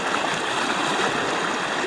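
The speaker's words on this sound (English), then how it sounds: "These rapids are pretty strong." Strong river rapids rush in a dense, steady roar of broadband water noise, close and unbroken, with no voices.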